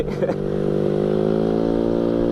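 A custom Honda Vario scooter engine idles and is revved slightly, holding a steady close hum with a brief rise in pitch at the start and no talk over it.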